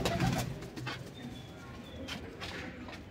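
Taydi pigeons in a new loft give soft, low, rolling coos, strongest near the start and then recurring more quietly against a steady background murmur, with faint higher chirps in between.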